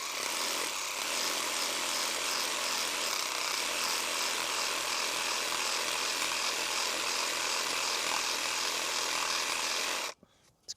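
A hard, woody snowball bush cane is cut during pruning, making a continuous, coarse rasping for about ten seconds that stops abruptly.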